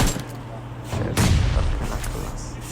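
Video game gunfire bursts out in loud, dense volleys with booming thumps, crowding a short stretch while a player's voice talks over the action.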